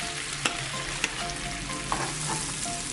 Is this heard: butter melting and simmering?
yes